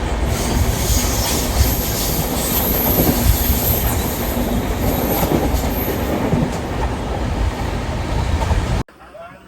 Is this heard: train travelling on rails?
yes